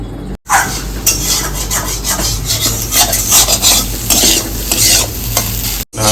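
An egg fries in a pan for egg Maggi in a cloud kitchen, loud and close, with continuous rhythmic stirring and scraping over a sizzle and a brief pause near each end.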